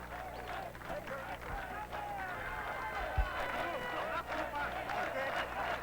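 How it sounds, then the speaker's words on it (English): A stadium crowd at Bislett cheers Ethiopian runner Berhane Adiri on her victory lap at a 2003 track meet, a steady distant roar with scattered clapping under a commentator's voice. "Listen to that crowd cheer her."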